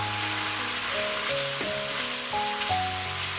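Tomatoes simmering in a frying pan with salt, chicken powder and soy sauce are stirred, giving a steady sizzle with soft scraping under a continuous tonal music bed.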